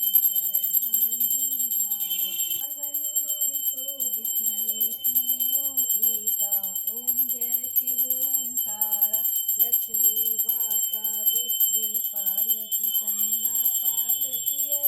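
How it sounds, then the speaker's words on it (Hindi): A small hand bell rings steadily and continuously through a home Hindu aarti prayer for Mahashivratri, its bright repeated strikes sounding close alongside a woman's sung prayer. "मेरा भाई घंटी बजाने का काम कर रहा था"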